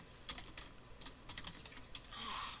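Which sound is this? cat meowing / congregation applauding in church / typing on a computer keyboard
typing on a computer keyboard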